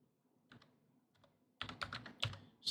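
A computer keyboard is typed on in a quiet room, a few scattered soft keystrokes followed by a quicker, louder run of clicks as a command is entered.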